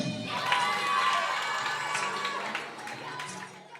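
A crowd at a school quiz final in Thiadiaye applauds and cheers, with sustained clapping and children's shouts swelling early and then easing off, while voices carry on underneath.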